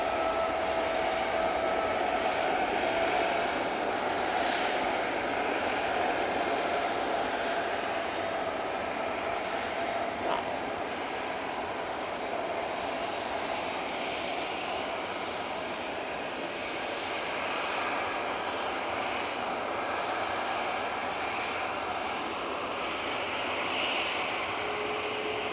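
A passenger plane taking off down the runway at Manchester Airport, a sustained loud roar of jet engines heard from a distance, steady throughout with a slowly shifting tone and no talking.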